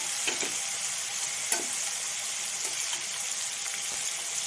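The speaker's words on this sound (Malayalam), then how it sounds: "ഇതിനെ പൊരിച്ചെടുക്കാം" Prawns fry in a pan with a constant, dense sizzle and hiss, close and even, with a couple of light stirring taps.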